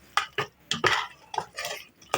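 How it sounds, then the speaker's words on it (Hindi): A spoon stirring bottle gourd and meat curry in a metal pot after fresh coriander goes in, a series of close, loud scraping and clinking strokes in an uneven rhythm, with no voices. "अब थोड़ा मिक्स कर लेंगे"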